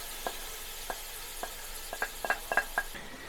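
Onions and celery in melted butter in a pan, a soft steady sizzle under a series of light spoon clinks and scrapes against the pan, quiet and close.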